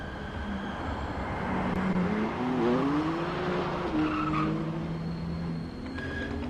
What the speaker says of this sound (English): Just bear with us as the freight train passes by.